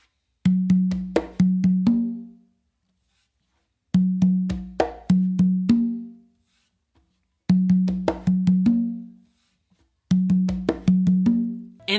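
A bossa nova pattern played on congas and tumba, with open tones and slaps in repeating bursts of quick strokes separated by short pauses, close and dry with no talking.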